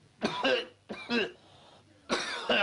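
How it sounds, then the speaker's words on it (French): Three harsh coughing bursts, each a quick double hack, loud and close, with short pauses between them. "Alors la grippe, on tousse."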